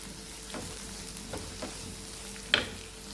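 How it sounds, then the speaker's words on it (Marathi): Chopped raw mango sautéing with garlic in a pan, with a soft continuous sizzle, a few faint spatula strokes and one sharper clink near the end. "कैरीला सुद्धा 1-2 मिनिटं आपल्याला परतून घ्यायचं आहे।"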